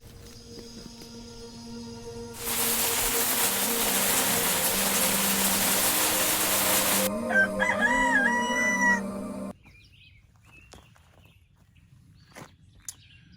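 Chickens and a rooster at a backyard coop, with a rooster crowing loudly over a burst of steady noise, then quieter clucks and footsteps close by.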